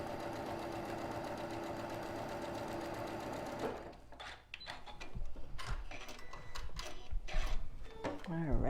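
A home sewing machine stitches lavender and sapphire quilt block units with 3.5 inch background pieces, running in a steady whirring stretch and then in shorter bursts of stitching with clicks and handling noises.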